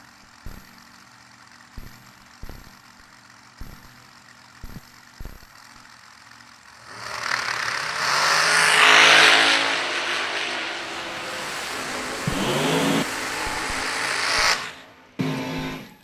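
Drag race car engines fire up and rev at a drag strip during a high-stakes race event, quiet clicks giving way to a loud, sustained roar of several engines from about seven seconds, with bursts of revving before cutting off near the end.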